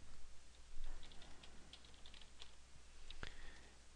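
Someone types a username on a computer keyboard at a login page, a quiet run of light, uneven keystroke clicks over a steady low hum, with one sharper tap near the end.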